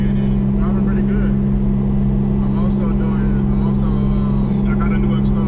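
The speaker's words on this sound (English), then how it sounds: "But I'm driving the car right now again, and it's driving pretty good." Turbocharged Nissan Altima on the road, heard from inside as a steady low engine drone with a constant tonal hum beneath, while someone talks over it.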